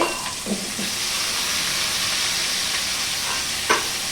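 Onions and tomatoes sauté in a pan for manathakali keerai chutney, giving a steady close hiss of frying with a few light stirring clicks near the start and end.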